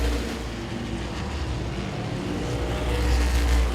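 Race cars roaring around the Langley Speedway oval, a continuous loud engine drone that swells slightly toward the end, heard from the stands with no single distinct pass.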